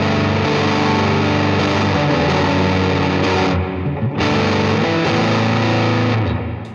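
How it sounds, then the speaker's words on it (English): Shoegaze electric guitar sent through reverb into distortion makes a dense, loud wall of fuzzy sustained chords that washes on continuously, with a brief dip in brightness midway before swelling back. "with the reverb going into the distortion now"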